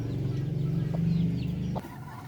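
A native brooding hen clucks in a low, steady stream of close guttural sounds that breaks off near the end, followed by quieter background.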